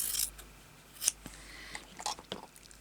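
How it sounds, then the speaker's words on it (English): Scissors snip through a piece of fabric in a few quiet, crisp cuts spread across a short stretch, close up and with no talking. "Cut a bit off."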